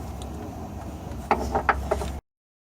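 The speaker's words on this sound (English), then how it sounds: "these are a 12mm bolt, and I'll be using a long socket to get into it where I can." A long socket wrench undoes 12mm bolts on the coolant pump of a Toyota Corolla Verso 2.2 D4D diesel, with a short burst of clicking ratchet strokes over a low background hum, close and fairly quiet.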